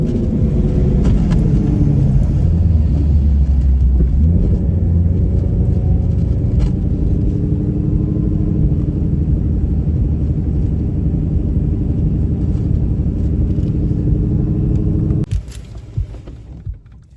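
A 2018 Ford Mustang drag race car from Indianapolis, Indiana rumbles loudly and steadily at close range, with a deep continuous engine drone that drops away sharply near the end.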